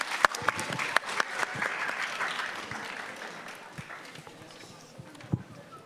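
Audience at a school citizenship challenge giving a round of applause, scattered near and far claps that thin out over several seconds, fairly faint.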